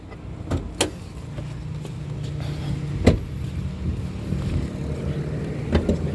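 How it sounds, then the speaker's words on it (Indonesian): The engine hood of a 2019 manual Mitsubishi Xpander Sport is opened: a few sharp clicks and thumps from the latch and bonnet stand out over quiet background noise, spaced irregularly, with no speech. "Sekarang kita buka bagian mesinnya."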